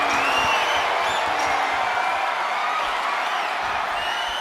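A capacity arena crowd in the WWE 2K26 wrestling game roars and cheers in a steady, dense wash of voices with scattered whoops, loud and continuous throughout.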